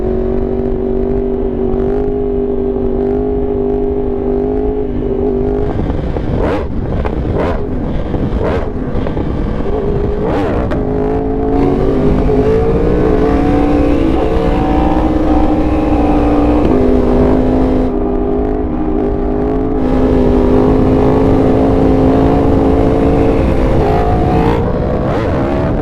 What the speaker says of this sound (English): I'm doing a wheelie as we speak.